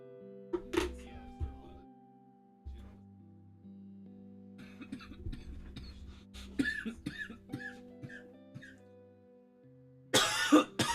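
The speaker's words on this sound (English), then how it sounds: "Sorry, coughing." Several sharp coughs come in separate bursts, close and fairly loud, with quiet gaps, a few softer throat sounds, and a final harsh coughing fit.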